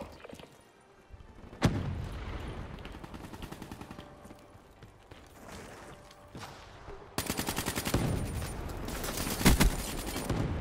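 Bursts of automatic gunfire and single shots in the video game Call of Duty: Black Ops 3, moderately loud and irregular, with a louder cluster of rapid fire near the end.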